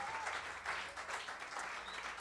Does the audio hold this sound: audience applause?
yes